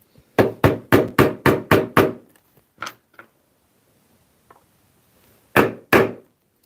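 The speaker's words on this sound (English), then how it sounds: "I'm using a rivet setter here." Hammer blows from a rivet setter driving brass pins into a leather trunk: a quick run of eight sharp, evenly spaced strikes, then two isolated taps, a faint knock, and two more loud hits near the end, with quiet gaps between.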